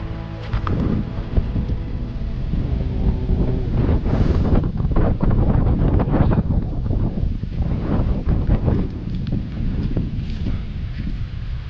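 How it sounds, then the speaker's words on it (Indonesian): Strong wind at a cave site buffets the microphone in a loud, continuous roaring rumble that never lets up, with no voices heard. "Anginnya kencang lagi."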